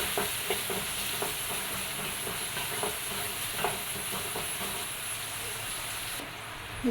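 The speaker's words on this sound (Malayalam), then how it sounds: "ഒരു സവാള കട്ട് ചെയ്തിട്ട് കൊടുക്കാം ഇതൊന്നെല്ലാം കൂടി കൂടി നന്നായിട്ടൊന്ന് വഴറ്റി കൊടുക്കണം" Chopped onion sautéing in a pan for an okra rice dish, a soft continuous sizzle with periodic scraping stirs of a spoon against the pan, close and moderately quiet.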